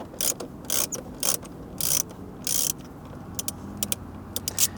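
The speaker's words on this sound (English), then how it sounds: "We're using an extension here, and we're going to go ahead and loosen both of these bolts." Ratchet with an extension loosening 10mm bolts while removing the central control unit trim in a 2016-2021 Toyota Land Cruiser; short bursts of rapid clicking come in several separate spells, close and fairly quiet, with no talk.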